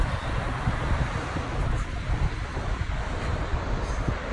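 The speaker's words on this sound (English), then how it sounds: "just the sound of the ocean is just amazing" Ocean waves wash onto a beach on a dull, grey day as a steady broadband roar, with wind buffeting the microphone throughout and no clear individual breakers.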